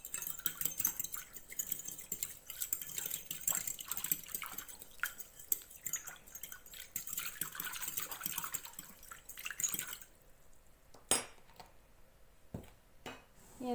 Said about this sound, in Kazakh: Және де жақсылап араластырамыз.